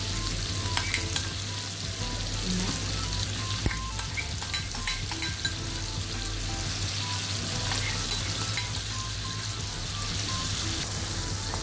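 Tomato purée sautés in a pan with a steady, moderate sizzle, broken by scattered scraping clicks of stirring.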